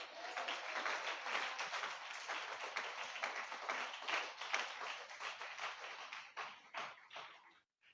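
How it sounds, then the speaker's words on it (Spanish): A church congregation claps together in a steady, dense round of applause honoring the Lord, sustained for several seconds before thinning out near the end. "den ese aplauso al Señor"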